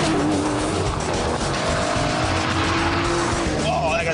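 An Aston Martin DBS V12 roars loudly and continuously at close range as it is driven hard on a track, with high squealing tires sliding through a corner.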